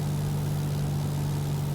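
A simulated Cessna 172 piston engine drones steadily with a strong low hum as the throttle is pushed in, continuous and fairly loud, with no speech.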